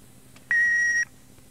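A single clean, steady electronic beep from an answering machine lasts about half a second, loud and alone against a faint background hum.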